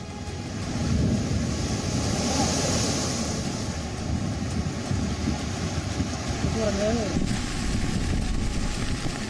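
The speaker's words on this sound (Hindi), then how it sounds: "समंदर में 10 फीट से ज्यादा ऊंची लहरें उठ रही हैं।" High sea waves over ten feet crashing during Cyclone Tauktae on the Indian coast, a loud continuous roar of surf mixed with heavy wind buffeting the microphone.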